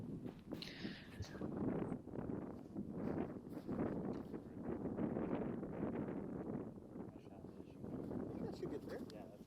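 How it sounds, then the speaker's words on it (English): Gusty wind buffets the microphone on a disc golf course, a continuous low rumbling roar that swells and fades, with people talking underneath. "Now this wind just makes it even tougher."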